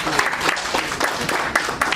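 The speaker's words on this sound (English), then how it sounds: "can we have a heartfelt round of applause for sir again?" Audience applause at a cloud security presentation, a dense, steady clatter of many hands clapping together, loud and close, filling the short moment.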